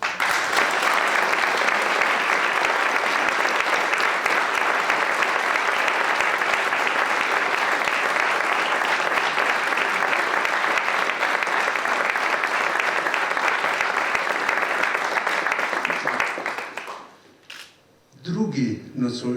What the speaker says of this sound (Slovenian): Prosim za velik aplavz spoštovanim nagrajencem.